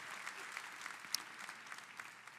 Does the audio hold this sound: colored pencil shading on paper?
no